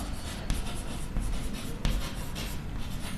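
Marker or chalk writing on a board during a class-10 maths lesson, a scratchy continuous rasp with a couple of sharp taps, fairly close.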